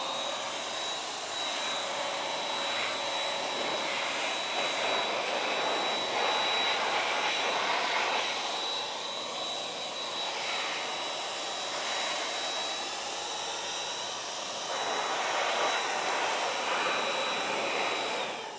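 An air blower dries a dirty car wheel from top to bottom, giving a steady, loud rushing whoosh with a thin high whine that holds for the whole stretch, swelling slightly in places, with no voices.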